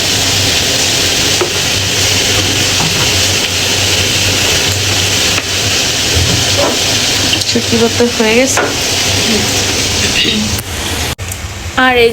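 Food stirred in a large wok, a steady scraping and sizzling wash running throughout, loud and close, with some voices and clatter near the end.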